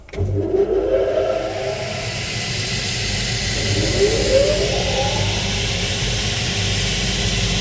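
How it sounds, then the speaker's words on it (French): Two motors of a Blitz cutting machine run together in a workshop, a steady loud mechanical hum and hiss after a brief start-up, with faint rising whine sweeps and no talk. "Donc on met en route chacun des deux moteurs."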